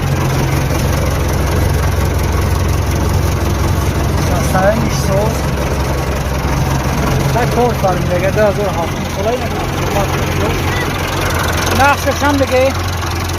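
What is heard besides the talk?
tractor engine idling, MTZ tractor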